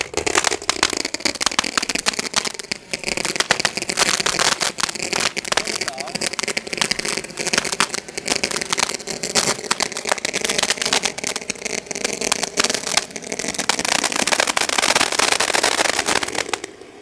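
Firecrackers crackle and burst in a dense, continuous rattle for a long stretch, with people talking loudly over the noise and an engine-like rumble beneath.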